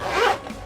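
An AquaGuard zipper on a custom EDC backpack is pulled in one quick, close rasping stroke that fades out in under a second.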